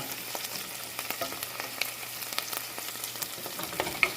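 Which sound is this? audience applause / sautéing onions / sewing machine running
sautéing onions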